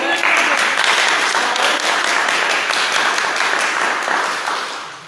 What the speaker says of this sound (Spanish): Primero le vamos a dar un aplauso.